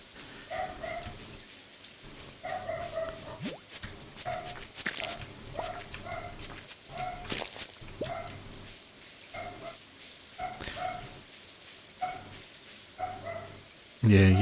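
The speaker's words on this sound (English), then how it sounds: "I don't know what he's barking at now." A dog barks repeatedly in short bursts at a steady pace, moderately close, over a background of steady rain, with a louder noise at the very end.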